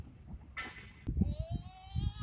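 Goats kept for farming in a rural village give short bleats, one sharp and one long wavering call, close by amid faint background chatter.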